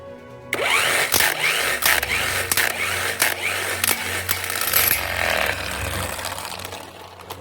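Wrench loosening wheel bolts on a Lamborghini Gallardo, a whirring mechanical drone broken by a series of sharp rattling clicks and bursts, close and fairly loud, running for several seconds.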